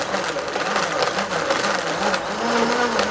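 A blender mixing a white-rum tiki cocktail with crushed ice runs steadily and loudly, a continuous whirring grind that holds throughout without a break.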